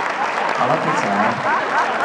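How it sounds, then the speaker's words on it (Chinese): A live audience claps steadily and densely at a Christmas variety show in Las Vegas, with a voice talking over the applause. "现场热烈掌声，对不对？"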